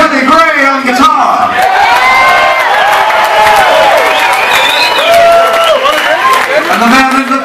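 A concert crowd at a rock show at The Canyon Club claps and cheers loudly and continuously, with whoops and shouts rising through the roar.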